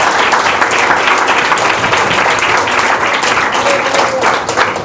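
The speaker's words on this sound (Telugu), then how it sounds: "గట్టిగా చప్పట్లు కొట్టి దేవుని నామాన్ని మహిమపరుద్దాం" A church congregation at a ministry service clapping loudly in unison, a dense and sustained roar of hands close and full, with voices mixed into it.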